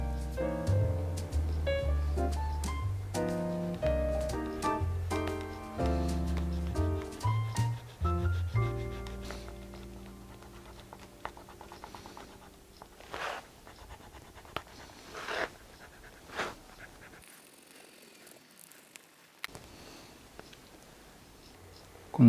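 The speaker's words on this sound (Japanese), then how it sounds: "そしたらちょっとこの温めたウィール、これをウェルトに当てていきます。" A heated no. 12 stitch-marking wheel rolls along the leather welt of a hand-sewn wholecut shoe sole. Soft, scattered scratchy clicks come through after louder background music fades midway.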